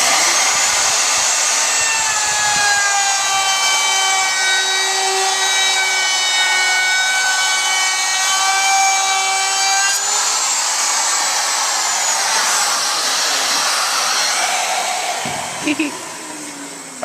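A power tool bit cuts along a wooden board while building an end table, giving a loud, steady whine that holds for about ten seconds, shifts in tone, then tapers off near the end.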